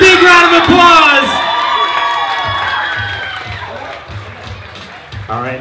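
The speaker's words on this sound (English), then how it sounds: "One more time, big round of applause." A crowd at a sweet sixteen party cheering and whooping loudly, with excited voices and shouts that gradually taper off into lighter chatter.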